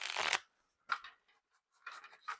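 A deck of tarot cards is shuffled in a few short crisp riffles, close and quiet, separated by silent pauses.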